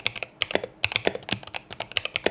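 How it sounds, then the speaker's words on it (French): Rapid typing on a mechanical keyboard with a cyberpunk look, crisp clacky keystrokes in quick irregular bursts, close and alone. "C'est la première fois que j'ai un clavier qui sonne aussi bien."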